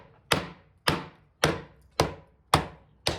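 Six evenly spaced chops from a Carnivora Mako knife with a heavy belly, each a sharp close impact fading quickly, landing roughly every half second with no talking.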